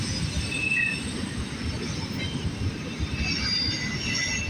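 Union Pacific stack trains, one led by SD70AH 9090 and the other by AC4400CW 6294, meeting and passing in a continuous roar of rolling cars with faint wheel squeal, steady and fairly near throughout.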